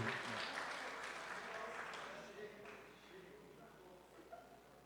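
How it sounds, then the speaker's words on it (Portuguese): Fairly faint audience applause at a church talk event, a dense patter of clapping that slowly fades over a few seconds, with a voice speaking over it. "uma salva de palmas para você"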